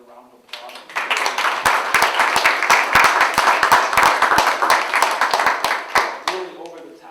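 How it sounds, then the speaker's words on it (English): An audience at a business club debate event bursts into applause, loud and dense for about six seconds before thinning out and fading. "If you could give them another round of applause."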